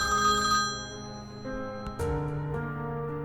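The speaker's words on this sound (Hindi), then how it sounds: "मैं फोन अटेंड करूं या नहीं बोलो?" A telephone ringtone chimes in repeating electronic tones, clear and fairly close, with no one speaking.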